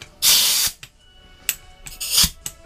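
A pneumatic air gun works on a lawnmower blade in loud, short hissing bursts with clattering ratchet-like rattles between them, close by.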